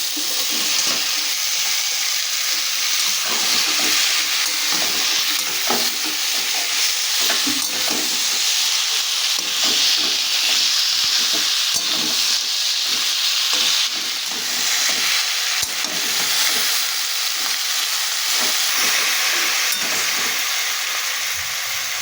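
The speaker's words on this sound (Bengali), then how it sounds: "এবার আমি ভেজে রাখা মাছের মাথাগুলো মশলার মধ্যে দিয়ে দেবো" Fried katla fish heads go into a cooked spice masala in a pan. A loud, continuous sizzle and hiss runs throughout, with stirring scrapes over it. There is no speech.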